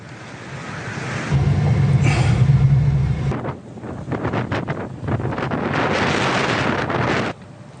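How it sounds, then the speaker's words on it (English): Hurricane Norma, a Category 1 storm, striking Mexico's northwestern coast: loud, buffeting gusts roar against the microphone in surges, easing briefly before rising again with a rushing, surf-like wash, and no voices heard. "Hurricane Norma slammed into Mexico's northwestern coast Saturday afternoon as a Category 1 storm, bringing dangerous rain and flooding"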